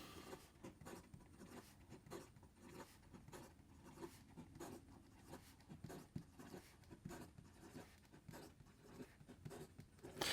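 A Leonardo Momento Magico Combustion fountain pen with a gold nib writes quickly on paper, making close, rapid scratchy strokes in a steady rhythm with no talking.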